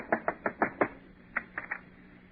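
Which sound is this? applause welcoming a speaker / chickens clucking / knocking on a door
knocking on a door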